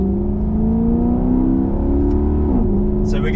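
A Maserati Quattroporte engine drones steadily at high volume on the Nürburgring race track, with a slight pitch dip near the end as it shifts or eases off.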